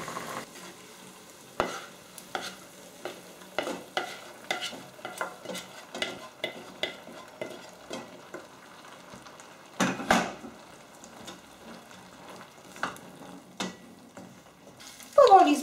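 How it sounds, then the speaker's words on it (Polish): Beans and pan contents cook in a pan with a faint background sizzle and repeated clinks and scrapes of a utensil stirring, rhythmic and close, with a louder clatter near the end. "przerzucę zawartość patelni i będę gotowała jeszcze około 10 minut"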